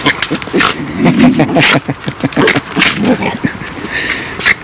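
Dogs play-fighting at a camp, close and loud, with rapid growls, snarls, yips and scuffling in bursts that rise and fall throughout.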